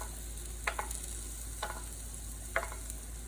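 Cashews and mixed nuts hit a quiet sizzling pan for a vegetable korma, with three soft clattering bursts spaced about a second apart over a faint steady fry.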